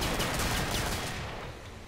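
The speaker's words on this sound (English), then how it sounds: "See, I'm shooting him." Gunfire in the video game Killing Floor: a short, dense, unbroken stretch of rapid shots, loud and close, fading slightly toward the end.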